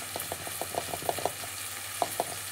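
Onion, capsicum, tomato, garlic and green chilli frying in a pan for chilli chicken, with a steady soft sizzle and repeated light scraping stirs, close and alone.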